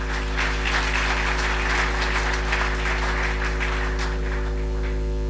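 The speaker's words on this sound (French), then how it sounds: "Applaudissez très fort" A crowd at a cultural evening gives dense, steady applause that fills the room, with a low electrical hum underneath and no speech.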